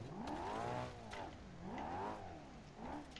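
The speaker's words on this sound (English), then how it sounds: "I am holding the throttle because I need to get speed, all my tires are doing is spinning" A car engine in the BeamNG driving game revs hard on a dirt track while its tires spin, giving three rising and falling revving sweeps in quick succession, moderately loud with no voices.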